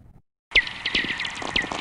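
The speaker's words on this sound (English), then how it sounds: "You're going to hear static and something called tweaks" Radio recording of spherics, lightning-generated static with tweeks, begins after a half-second silence as a steady crackling hiss with several brief bright chirps standing out over it.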